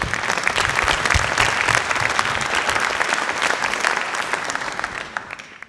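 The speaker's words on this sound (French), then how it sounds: "Oui, vous pouvez l'applaudir." Sustained audience applause at a literary opera evening with writer Sylvain Tesson in Toulon, dense and steady throughout before easing slightly at the end.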